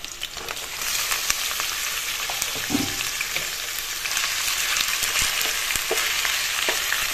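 Chicken pieces fry in a pan with onions, giving a strong close sizzle that swells after the first second, along with scattered stirring taps and scrapes and no talk.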